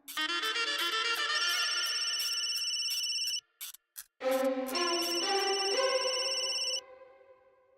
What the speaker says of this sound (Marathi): फोन घ्या.